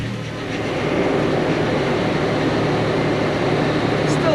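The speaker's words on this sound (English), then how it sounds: "Still a little noisy, the power steering pump." Steady, loud mechanical whine and drone of a noisy power steering pump on a running Toyota FJ engine, continuous and even throughout with no breaks; no one talks.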